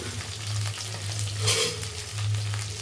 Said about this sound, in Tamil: இதெல்லாம் சேர்ந்து வதங்கட்டும் ஒரு 5 நிமிஷம்